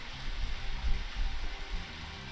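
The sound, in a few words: rain in the video game Deadly Premonition Origins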